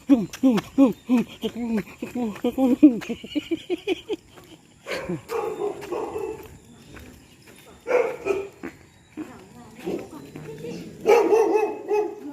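Two big dogs barking near a high creek in Manila during a typhoon, a rapid series of deep barks followed by scattered louder bursts, mixed with people talking.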